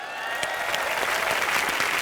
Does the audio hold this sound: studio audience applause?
yes